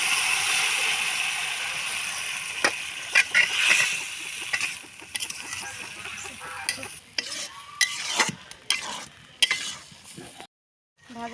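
Food frying in a pan until browned, with steady sizzling and repeated scraping stirs and clatters of a utensil, close and fairly loud, easing off and going quiet near the end as the food is lifted out.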